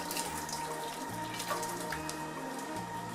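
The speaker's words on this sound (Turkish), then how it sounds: "Üzerine sıcak su döküyorum bir miktar." Hot water pours from a kettle over roughly chopped potatoes in a cooking pot for mashed potatoes, a steady close splashing stream running throughout with no talk.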